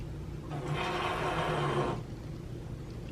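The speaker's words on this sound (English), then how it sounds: "Wow, that was a loud hiss." A cat hisses once, a breathy rasp lasting over a second against a quiet room hum, fairly close.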